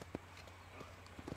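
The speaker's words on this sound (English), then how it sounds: "just hitched a horse, Bri." Horse hooves clip-clop at a slow walk in Red Dead Redemption, a few soft, irregular thuds over quiet background ambience.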